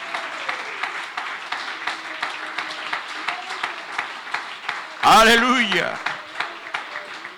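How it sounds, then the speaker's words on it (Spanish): Rhythmic clapping from a church congregation during a Spanish-language sermon, steady hand claps under ongoing speech and shouts, with a loud burst of voices midway. "Fuerte ese aplauso al Señor Jesús."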